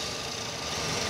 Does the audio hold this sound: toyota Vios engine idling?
yes